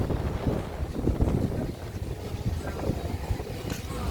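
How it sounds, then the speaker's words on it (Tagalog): Cold wind gusts across a hot spring resort in Laguna on Christmas Eve, a dense rumbling rush buffeting the microphone throughout, with no clear voices. "Bukod sa malamig, mahangin."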